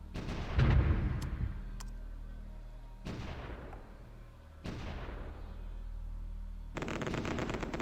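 Artillery bombardment and gunfire from the strategy game Supreme Ruler Ultimate: a few sharp distant blasts spaced several seconds apart, each trailing off, over a low rumbling bed, with a dense crackle of fire at the end.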